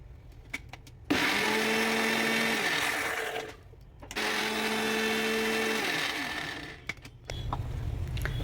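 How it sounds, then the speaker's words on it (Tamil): A kitchen mixer grinder blends watermelon for popsicles, a loud steady motor whine running for two long stretches separated by a brief pause, close up, with short clatters before and after and no speech. "இப்போ இதை நீங்கள் மிக்சியில் போட்டுட்டு அரைக்க ஆரம்பிச்சிடுங்க."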